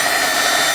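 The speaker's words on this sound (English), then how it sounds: "Use your heat gun." Heat gun blowing steadily to soften and loosen large stickers on a thrifted item, a constant loud airy whoosh with a motor hum, with no pauses or talk.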